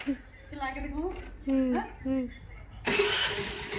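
A person talks, then near the end an Activa scooter engine starts and keeps running with a steady, buzzing whir.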